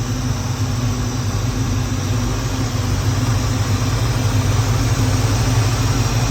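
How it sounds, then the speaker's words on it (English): A rebuilt 1970 Ford Mustang engine idling steadily, a loud continuous low rumble with no change in pace and no talking. "Listen to that motor. Listen to it."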